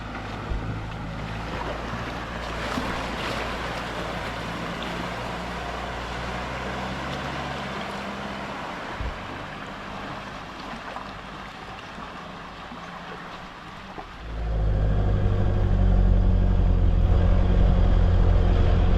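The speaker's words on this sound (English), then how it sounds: "You do a U-turn in the middle of the water and then work your way around" An off-road vehicle drives through a creek crossing on the Old Telegraph Track, a loud, steady rush of engine and churning water that surges louder and deeper near the end, with no talking.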